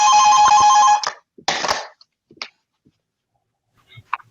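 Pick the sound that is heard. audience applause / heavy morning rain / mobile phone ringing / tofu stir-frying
mobile phone ringing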